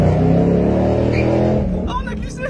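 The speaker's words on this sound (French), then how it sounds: "À cause ou grâce à ton échappement incroyablement bruyant." A car with an incredibly loud exhaust revs hard and holds a sustained, close, roaring drone, easing off near the end.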